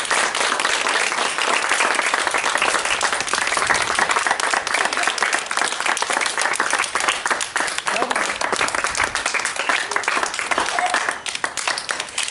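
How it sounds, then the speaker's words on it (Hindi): A studio audience applauding during an interview with a TikTok star, loud dense clapping that continues steadily for about eleven seconds before tapering off at the end. "तालियां तालियां"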